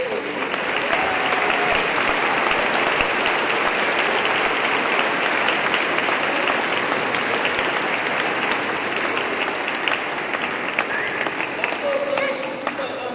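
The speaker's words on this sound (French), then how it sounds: "On applaudit pour nos enfants." A church congregation at a communion mass gives the children a long, steady round of dense applause that fills the space, loud and sustained, with faint voices mixed in.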